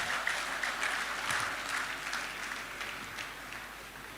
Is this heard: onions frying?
no